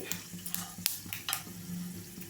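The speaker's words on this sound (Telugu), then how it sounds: "తాలింపు అయితే వేగాలండి." Tempering spices frying in hot oil: mustard seeds, chana dal, urad dal and cumin crackle and sizzle with a few sharp pops and light stirring clinks, close and steady.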